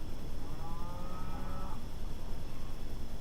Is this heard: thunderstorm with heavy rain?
no